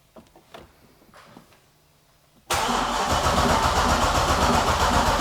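A Katech LS7 V8 car engine starts for the first time. Faint handling noises and quiet voices come first, then the engine cranks and catches abruptly, settling into a loud, steady idle.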